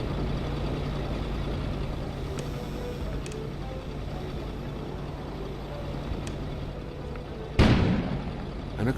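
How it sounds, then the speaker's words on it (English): A sudden explosion bursts outside late in a steady engine-like drone, as a sound effect in an audio story, a loud sharp blast that then decays. "An explosion suddenly occurred outside."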